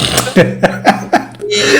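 A person imitates a fart by blowing through the lips, a series of four or five short buzzing, sputtering bursts close to the microphone, ending in a longer breathy blow.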